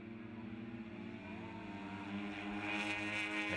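Moto3 Aprilia race motorcycles on a road course at New Jersey Motorsports Park, a high-pitched engine note passing at a distance, rising steadily in pitch and growing louder over a few seconds.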